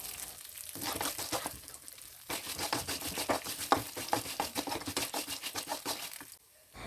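Poha chivda snack tossed with salt in a bowl, a quick series of dry rustling, crinkling stirs in a steady rhythm, close and fairly quiet, with a short pause before the mixing picks up.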